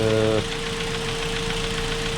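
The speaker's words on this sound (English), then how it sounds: "you turn on the car and to see if there's any weird noises coming from the engine" A car engine runs steadily at idle with a low, even rumble and faint knocking texture, preceded by a brief tonal hum at the start.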